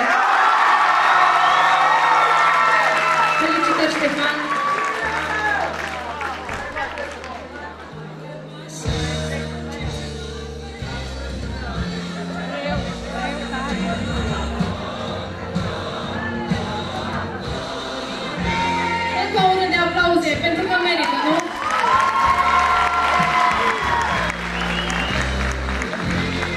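Applause and cheering from the audience at a freshman ball at Spiru Haret high school in Moinești, with whoops and shouts rising over loud music with a heavy beat, continuing throughout.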